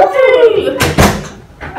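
An office door at a school slams shut with one loud, sharp thud right after a voice speaks nearby, followed by a brief quieter knock-like sound.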